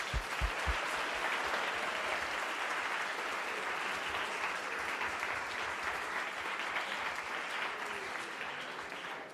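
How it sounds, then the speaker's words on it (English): An audience at a school debate competition applauds both teams, sustained clapping from a crowd that holds steady for several seconds before slowly fading, heard alone without talk. "Ladies and gentlemen, please join us in giving both teams a well-deserved round of applause."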